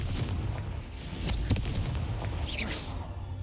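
Fire spell blasts in the Hogwarts Legacy video game, a dense rumbling boom with crackling bursts, one sharp hit near the middle and a swooshing whoosh toward the end over steady low game noise.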